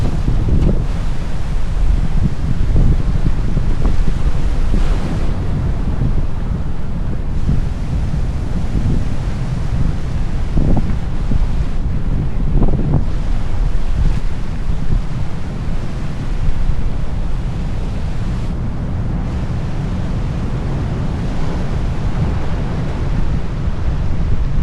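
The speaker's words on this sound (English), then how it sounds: "here with all these waves breaking" Ocean waves break on the rocks at a rocky coastal salt pond with a strong current, joined by gusty wind buffeting the microphone. Loud, continuous rushing surf with repeated surges, and no voices.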